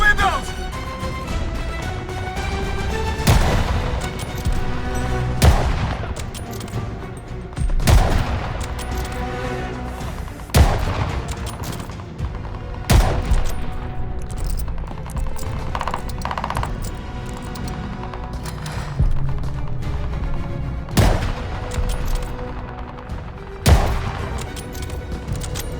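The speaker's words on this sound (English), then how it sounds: "We are getting shot from above!" Gunfire from above at hotel windows in a Call of Duty Vanguard campaign battle: loud, sharp shots crack out at irregular intervals over a continuous bed of battle ambience and music.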